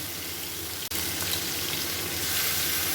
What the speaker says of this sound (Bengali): এখন আমি আদা রসুন পেঁয়াজ যে পেস্টটা করেছিলাম এটা দিয়ে নেব, পরিমাণ মতন দিয়ে নেব।